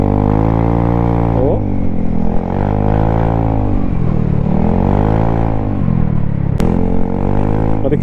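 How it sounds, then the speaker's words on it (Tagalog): Loud, steady drone of a Vespa GTS300 scooter engine while riding, continuous and close throughout, with pitch rising and falling as the throttle changes and a person speaking briefly over it. "masarap din maingay na scooter"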